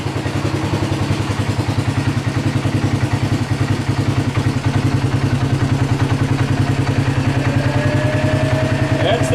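Close, loud, steady mechanical whirring with a fast rhythmic thrum runs throughout, coming from the running radiator cooling fan on a hot, overheating Polaris ACE 570.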